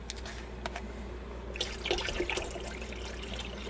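Water poured from a jug into a container for making tea runs as a continuous trickling splash, growing busier and more gurgling halfway through, close and moderately loud over a low hum.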